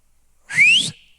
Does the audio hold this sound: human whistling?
yes